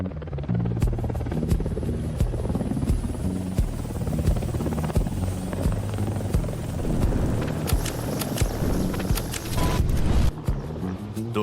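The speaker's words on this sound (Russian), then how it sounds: "Вертолет улетел, забрав с собой последнюю связь с цивилизацией." A helicopter over remote mountains and forest, its rotor and turbine drone steady and fairly loud with a constant hum, no voices.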